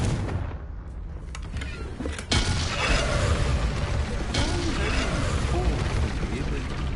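Bombarda and Confringo spell blasts from Hogwarts Legacy land as a sharp explosive boom, then a sustained crackling rumble that fills the rest of the moment. A voice talks over the blasts.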